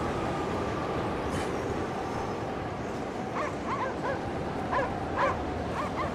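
In the Anabiosis: Sleep of Reason video game, a dog yips and whimpers in the distance, faint repeated barks rising over a steady roar of howling snowstorm wind.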